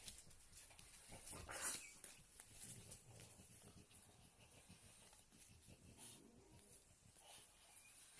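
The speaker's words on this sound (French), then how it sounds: "C'est mes chiens qui font des drôles de bruit, comme d'habitude." Dogs indoors making odd wheezy, whimpering and snuffling noises, faint and scattered, with one brief sharper burst early on.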